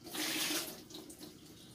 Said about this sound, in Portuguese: Parece que está voltando, gente, a água.